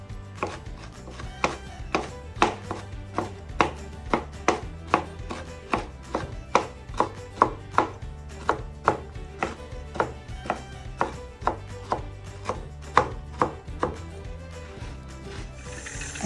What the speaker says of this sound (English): now I'm just going to chop the toasted pecans that I let cool